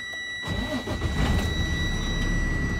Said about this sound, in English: Start my engine again.